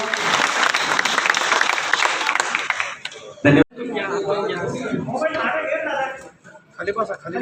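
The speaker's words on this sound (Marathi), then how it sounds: "टाळ्यांचा गजर आपण करायचा" Audience applause at a Marathi political rally honouring a public leader, a dense clapping roar through the first three seconds, a brief sharp burst, then thinner clapping mixed with a voice over a public address system.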